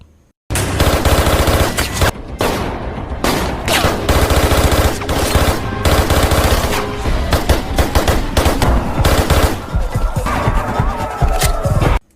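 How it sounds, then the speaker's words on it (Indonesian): Gunfire from a movie shootout at a bank robbery roars in loud, continuous bursts of rapid automatic fire mixed with single shots and a heavy throbbing background, alone with no talk. "Gabriel menembakinya dan untungnya Jacob bisa menghindar dan membalas tembakannya"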